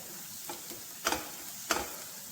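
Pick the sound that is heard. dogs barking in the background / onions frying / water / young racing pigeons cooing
onions frying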